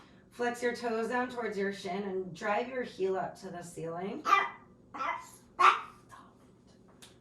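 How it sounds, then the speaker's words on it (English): A feisty pet dog barks in short, sharp bursts near the end, following a calm instructor's voice speaking during an indoor yoga session. "Sorry about my dog. She's feisty this morning."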